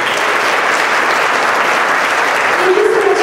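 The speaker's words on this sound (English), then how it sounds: "let's give a rousing applause once again to recognize Brianna Gottschalk" Rousing applause fills a gala fundraiser dinner, a close, loud, continuous wash of clapping from the crowd with voices mixed in underneath.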